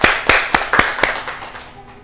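Students clapping for classmates in a classroom, about five sharp, evenly spaced claps that fade away as the room goes quiet.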